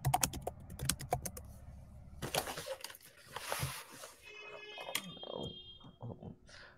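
Computer keyboard typing in short bursts of fast, close clicks, separated by gaps and brief other noises, with no talking.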